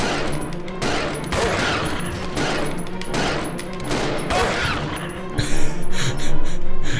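Dense, rapid gunfire from a Skorpion in the video game Resident Evil Zero HD, a near-continuous barrage of shots that swells louder toward the end.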